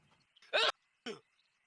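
A single sharp sneeze in a quiet room, with a shorter second burst moments later, close and loud against near silence.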